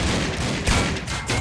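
Dense gunfire in the Critical Ops mobile shooter game, a continuous loud barrage of overlapping shots filling the whole moment.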